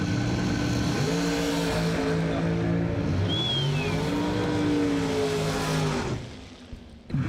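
The VP Racing Fuels X16 race car's engine roars loud and close at a bracket drag racing event, holding a steady pitch, then rising before it cuts off abruptly near the end.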